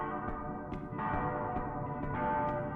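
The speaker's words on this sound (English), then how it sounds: "as you can tell by the ringing chimes." Bell-like chimes ring out in a horror video game, a sustained resonant tone with several bright strikes repeating at uneven intervals, alone with no talk.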